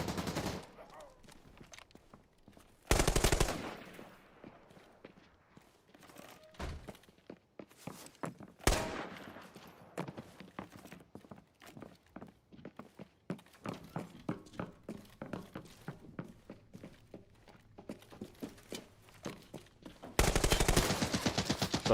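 AK-74 gunfire in an online video game: several sharp, loud bursts stand out among quieter scattered shots and thuds, with long quiet gaps between the heavier volleys.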